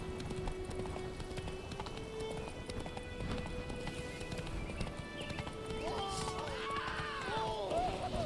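Horse galloping in the video game The Witcher 3: Wild Hunt, a steady run of hoofbeats with a whinny near the end, all under continuous game music and ambience.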